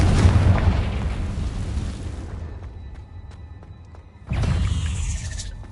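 A Confringo fire spell in Hogwarts Legacy goes off as a loud, broad explosive boom. The blast fades into a rumbling tail, and a second burst erupts near the end, both loud and close.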